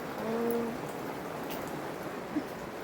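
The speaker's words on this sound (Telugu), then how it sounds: "వాన వాన వస్తుంది" Rain falls in a soft, steady patter that fills the whole stretch. A faint tonal murmur rises briefly near the start and a single sharp drip sounds near the end.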